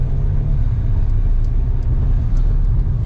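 MK8 Golf R fitted with a DBV2 4-inch downpipe cruising at about 30 mph, heard from inside as a steady deep low rumble of exhaust and road noise with faint ticks above, no talk.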